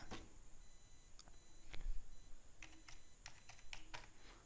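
Someone types a one-time password on a computer keyboard: sparse, quiet, close key clicks come in small irregular clusters, with no talking over them.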